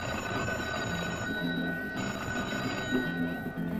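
A telephone bell rings steadily in a 1970s setting, its bright metallic tone sitting over a constant dense rumble of background noise, with no talking.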